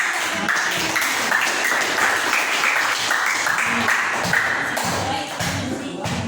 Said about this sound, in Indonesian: berikan tepuk tangan untuk Bapak